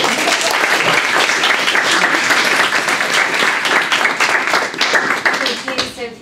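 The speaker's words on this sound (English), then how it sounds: "So give her a round of applause." An audience applauds a student presenter before her honours thesis talk on land use and Great Lakes watersheds, a loud, steady wash of many hands clapping that tapers off near the end.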